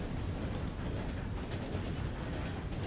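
Steady rumbling train running along rails in a Red Dead-style western game world, a continuous dense low roar with faint rattling, close and unbroken, no voices.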